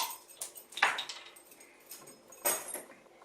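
A couple of brief metallic jingles of keys on a ring with a bottle opener being shaken, close by with quiet gaps between them.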